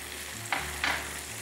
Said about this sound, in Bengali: এবার আমি এতে পেঁয়াজ বাটা, রসুন বাটা দেবো।